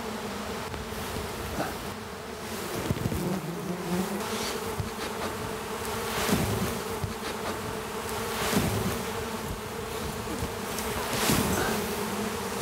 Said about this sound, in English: there were hundreds of bees all over her, and she didn't get a single sting